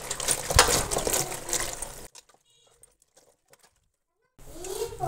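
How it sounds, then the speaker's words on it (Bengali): Jujube berries (boroi) being washed by hand in a bowl of water for pickle, close splashing and sloshing that stops for a silent gap and then starts again. "প্রথমে কুলগুলো খুব সুন্দর করে আমি কুচলে ধুয়ে পরিষ্কার করে নিয়ে নেব।"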